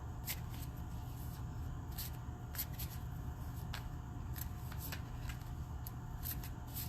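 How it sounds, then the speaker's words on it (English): Tarot cards being shuffled, soft repeated riffling and sliding flicks at an irregular pace, faint and close over a low steady background hum, no talking. "in the meantime, I am going to shuffle the cards."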